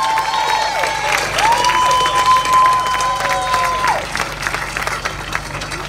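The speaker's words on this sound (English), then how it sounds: "Help me give great applause to our wonderful mayor, Mr. Robert Kennedy, the Honorable Robert Ke" Crowd applauding at an outdoor memorial park dedication ceremony, steady clapping mixed with cheers and a sustained whistle, fairly loud and continuous.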